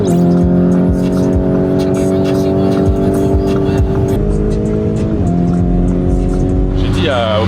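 Supercar engine revving loudly up close, steady harmonic drone with pitch shifts and a sharp rev near the end, with speech faintly audible under it.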